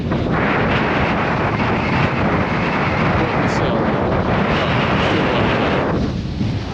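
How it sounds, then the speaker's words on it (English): Strong wind roars across a mountainside in the Cairngorms, buffeting the microphone in a loud, unbroken rush that barely eases for several seconds. "God, that wind is strong."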